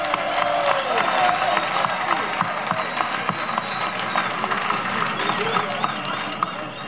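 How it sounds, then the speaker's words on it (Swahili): Crowd at a public gathering in Kariakoo market, where the prime minister addressed traders about ending their strike, breaks into dense, steady applause with mixed crowd noise and voices throughout. "Tuwapigie makofi mengi."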